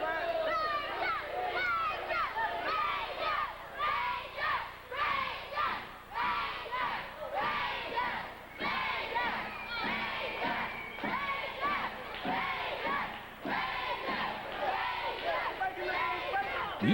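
A wrestling event crowd, including many children's voices, shouts and cheers in rhythmic bursts. The chanting is steady and fairly distant, with a commentator's voice woven through it.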